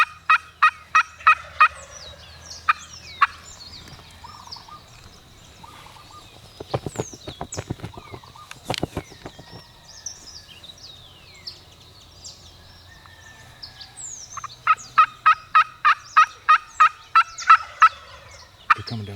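Wild turkeys gobble in repeated bursts during a hunt, loud rattling calls at the start and again near the end, with rustling and thumping movement in between and no talk.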